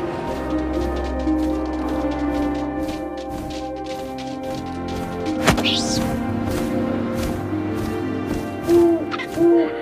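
An owl hoots in the video game What Remains of Edith Finch, soft low calls set against a sustained musical drone and faint wind, with a few brief soft knocks.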